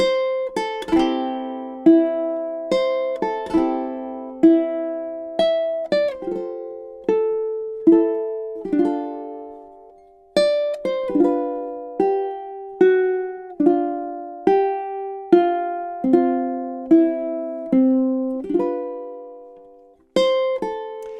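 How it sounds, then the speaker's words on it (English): Ukulele plucking the first verse melody of a Christmas song, a clear single-note line of evenly paced notes with some ringing double stops, close and unaccompanied, with no talking. "here's all of melody A, verse 1. Should sound like this."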